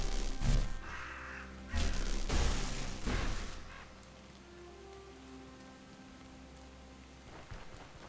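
Crows cawing in the game Stoneshard, a few loud caws in the first few seconds over steady rain pattering on a surface, then fading to a quieter rainy ambience.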